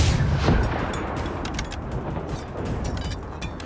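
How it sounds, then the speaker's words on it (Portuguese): Heavy minigun fire in the video game Generation Zero roars as a dense, loud, continuous barrage with booming low-end rumble and rapid crackling throughout. "Tu tá levando um tiro de minigun doidado, velho."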